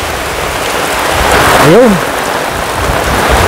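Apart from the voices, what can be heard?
very heavy rain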